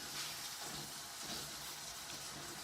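Ginger, garlic and meat cook in a pan for ma po tofu, giving a faint, steady sizzling hiss that runs throughout with no voices.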